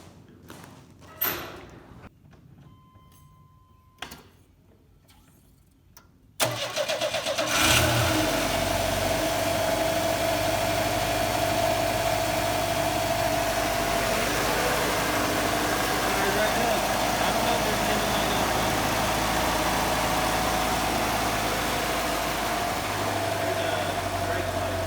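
A 1988 Chevrolet S10 cranks and catches after a few seconds of handling noises, then settles into a steady, fairly loud idle that holds for the rest of the clip.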